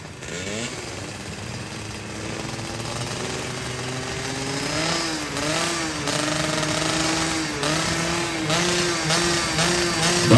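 Two-stroke 116–125 cc stock underbone motorcycles racing in a regional road race final, engines screaming in a high buzzing whine that rises and falls with shifting pitch as bikes pass, loud and continuous.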